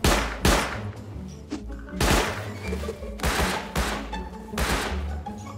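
Repeated bursts of gunfire in the video game Rust, several loud close volleys and rattling shots spread across the clip with a faint voice underneath.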